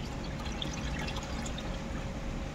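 Water flows steadily out from a pond along an artificial channel, a continuous, even rush with light splashing, heard close and without voices.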